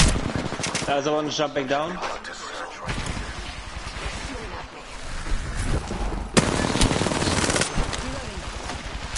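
Video game gunfire rattles in dense automatic bursts, loud and continuous, with a voice talking over part of it.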